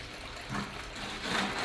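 Water rushes and splashes steadily through a gold-prospecting sluice header, a brief close-up flow with slight surges.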